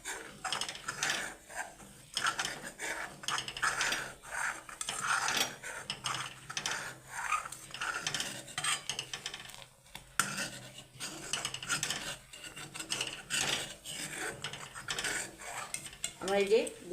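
A spoon scrapes and clinks steadily against a pot as milk is stirred to dissolve lumps, with rapid, rhythmic metallic rasping throughout and no talking.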